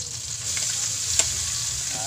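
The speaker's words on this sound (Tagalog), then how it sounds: "Haluin lang po natin siya muna para magisang maigi sa mantika." Bamboo shoots sauté with garlic in hot oil, giving a steady close sizzle with scraping stirring strokes and a brief sharp pop, with no voices.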